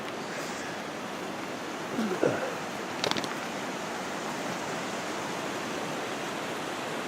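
The Denny River flows steadily in a broad, even rush of water outdoors, constant throughout, with a couple of faint brief knocks and rustles partway through.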